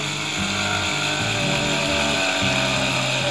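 A watchmaker's micro drilling machine with a 4 mm bit whines steadily and loudly, its pitch dipping and recovering several times as the bit bites into material.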